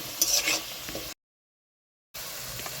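Cut potato pieces fry in hot oil with a soft crackle and some stirring scrapes. The sound breaks off into a second of silence, then the gentle sizzle returns, with no talking.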